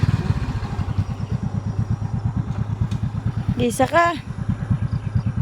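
A motorcycle engine idles close by with a steady low pulsing chug throughout, while people talk over it and a brief horn-like squeal cuts in near the end.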